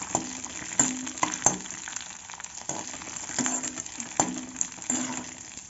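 Crushed cardamom roasting in a pan for jaggery kesari with cashews and raisins, giving a soft steady sizzle broken by light clinks and scrapes of stirring, close and fairly quiet without talk.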